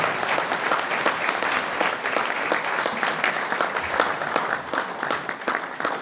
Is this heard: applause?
yes